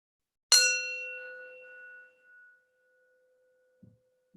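A single meditation bell struck once, ringing out clear and bright before slowly fading into silence, followed by a couple of faint soft taps.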